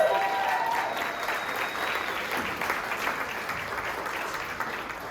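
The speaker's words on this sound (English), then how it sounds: "How about one more round of applause for our tellers as they return to their seats?" An evening storytelling event's audience gives a round of applause to the tellers returning to their seats, a broad, even wash of many hands clapping at moderate distance that slowly eases off.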